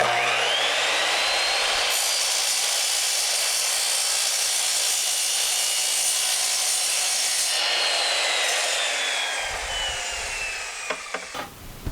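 A long wooden board is cut down to two feet with a power saw, producing a loud, sustained whining cut close to the microphone that spins down near the end and is followed by a few light knocks.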